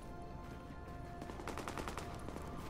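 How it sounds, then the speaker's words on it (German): Rapid bursts of gunfire in Tom Clancy's The Division, quick repeated shots partway through over a dense, noisy background, fairly faint. "Schüsse."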